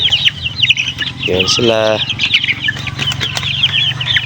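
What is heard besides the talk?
Rhode Island Red chickens clucking and flapping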